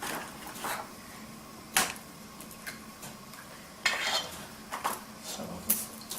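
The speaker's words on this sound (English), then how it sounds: "So we'll just beat this up while our milk is warming up" Custard ingredients for a South African milk tart are whisked in a bowl, with intermittent clinks and scraping taps of the whisk against the sides, quiet and close, arriving in uneven bursts.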